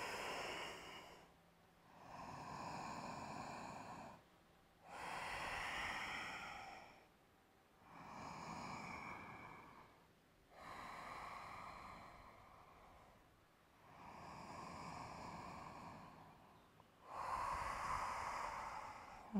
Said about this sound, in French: Revenez à la respiration Ujjayi.